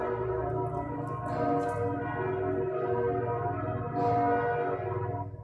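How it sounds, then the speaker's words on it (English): Church bells toll continuously with rich, overlapping ringing tones that swell and sustain, loud and resonant with no voices. "As the bells are tolled."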